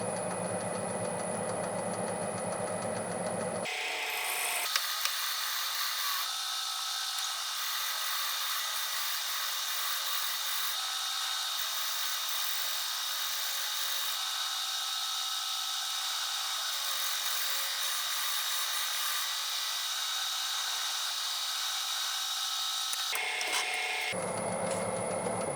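A cherry firewood bowl being worked on a wood lathe gives a steady, close scraping and rasping hiss that runs unbroken for about eighteen seconds, with quieter workshop sound before and after.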